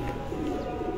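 Pigeons cooing on a rooftop loft of breeder pigeons, a low soft coo, close and steady, with no talk.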